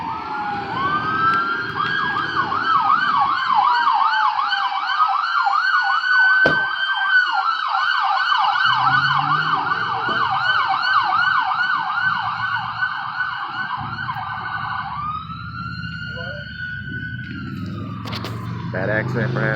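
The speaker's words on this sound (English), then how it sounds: "hold on, we got more ambulances" Wailing ambulance sirens sweep up and down loudly for a long stretch, then shift pattern and fade, with traffic rumble and some talking beneath.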